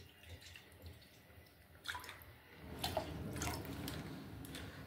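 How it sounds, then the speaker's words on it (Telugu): Water is poured into a cooking bowl for jaggery paramannam: quiet at first, then a close splashing gush starts partway through and keeps flowing steadily to the end. "ముందుగా ఒక గిన్నెలో కొన్ని వాటర్ వేసుకుందాం"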